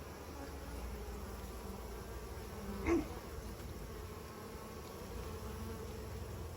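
Honeybees from a nuc swarm over a frame of nurse bees, drones and honey, giving a steady, close, low buzz throughout with one brief louder swell near the middle.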